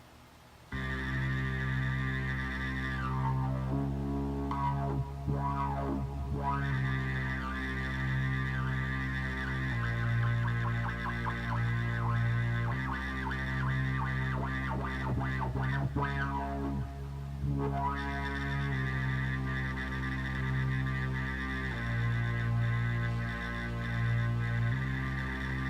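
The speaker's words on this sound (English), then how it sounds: "it's just another good like little bass machine that sounds like this" A sustained electronic bass synth tone holds steady with shifting filter sweeps and pulsing patterns, playing alone without any voices.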